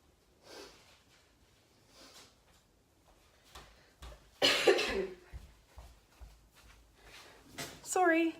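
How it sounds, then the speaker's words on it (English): Quiet room with soft rustling, then a loud, sharp burst of nose blowing into a tissue, followed by sniffs and a voice speaking at the end. "I had to blow my nose"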